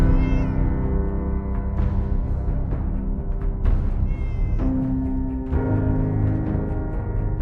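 A video game cat meows repeatedly and loudly, drawn-out yowls that rise and fall in several separate calls, close and alone with no talk.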